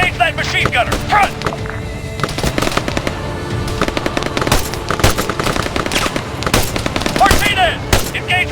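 Sustained machine gun fire from an Arma 3 firefight, dense bursts and rattling shots crowding the whole stretch at close, loud range, with shouted squad commands mixed in.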